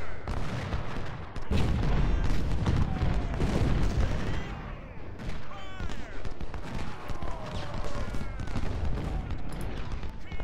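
Musket volleys roll across a Civil War battlefield in the strategy game Ultimate General: Civil War, dense overlapping gunfire crackling continuously with heavy booms, some speech underneath.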